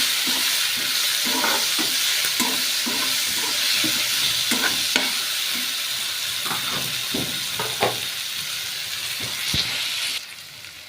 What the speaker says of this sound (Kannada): ಅದನ್ನು ಕೂಡ ಸ್ವಲ್ಪ ಚೆನ್ನಾಗಿ ಫ್ರೈ ಮಾಡ್ಕೋಬೇಕು.